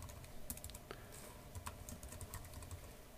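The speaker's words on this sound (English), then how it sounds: "And well, let's just type it out." Quick, uneven keystrokes come from a computer keyboard as code is typed for a Unity3D project, with soft clicks and a few sharper key taps, fairly close and without talk.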